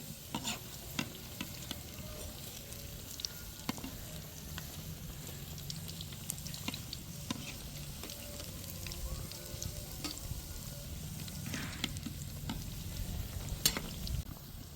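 Bread pakoras frying in hot oil, a steady close sizzle with crackling pops and occasional stirring or turning scrapes running throughout, no voices.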